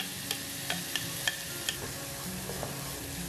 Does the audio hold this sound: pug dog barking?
no